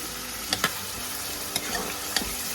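Chicken adobo with garlic, onion and tomato frying in a pan, a steady sizzle with a few sharp scrapes of stirring scattered throughout.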